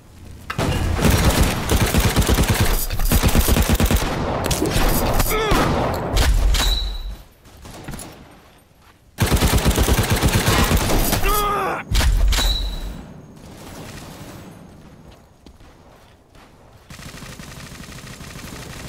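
Gunfire from a World War era war video game: dense bursts of automatic weapon fire and sharp shots rattle loudly in long sustained volleys, with thuds and short breaks between them, punctuated by booming impacts.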